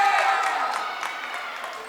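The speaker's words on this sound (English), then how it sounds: "Shelby Rising City crowd so loud," A loud crowd fills a basketball gym during a high school boys game between Giltner and Shelby Rising City, a sustained roar of cheering voices, near and dense throughout.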